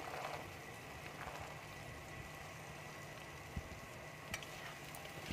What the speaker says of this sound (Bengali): মশলাটা আমি ভালো করে ভেজে ছোলাটা দেবো। এবার আমি ছোলাটা দিয়ে দিচ্ছি।